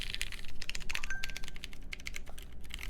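Rapid typing on a custom mechanical keyboard, a steady stream of crisp, close clacking keystrokes with no pauses and no voices.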